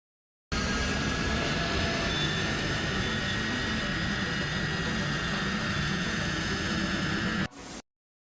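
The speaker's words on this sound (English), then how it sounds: "Plane lands safely despite thick black smoke pouring from its engine" A steady, loud roar of a landing airplane's engine, pouring thick black smoke, with hissing wind noise, continuous for several seconds before cutting off abruptly.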